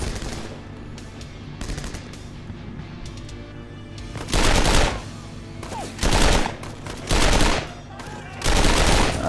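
An MP40 submachine gun fired in the game 7554, loud rattling bursts of automatic fire about a second long, repeated four times with short pauses, over steady background game noise.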